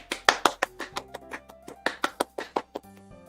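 Hand claps, run through an audio filter: about a dozen sharp, close claps in a quick, fairly even rhythm over a low steady tonal hum, with no talking.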